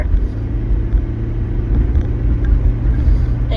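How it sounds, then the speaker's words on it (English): A 2009 Toyota Prius driving at about 35 mph, a steady loud low rumble of road and cabin noise heard from inside the car. "Do you hear that? That's my car. My car is a 2009 Prius"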